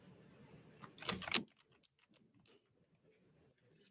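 Typing on a computer keyboard, a quick cluster of louder clicks followed by sparse, lighter key taps in a quiet room.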